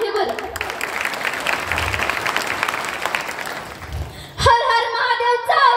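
Audience applause at a Shivaji Jayanti lecture in a village hall, a steady wash of clapping that runs for several seconds before cutting off into a louder spoken voice.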